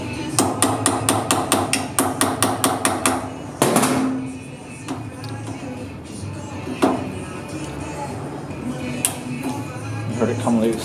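Rapid, loud metallic hammer blows on a tool to loosen screws on a Keihin FCR motocross carburetor, a steady run of about a dozen strikes followed by scattered lighter knocks and handling noises.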